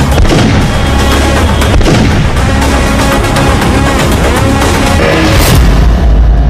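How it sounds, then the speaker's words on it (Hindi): Rapid, loud gunfire rattles through a police shootout with gangsters at a residential complex, dense overlapping shots and booming reports filling the whole stretch with no pause. "इन्हीं गोलियों की आवाज के बीच जवान बिल्डिंग में इधर से उधर दौड़ते नजर आए"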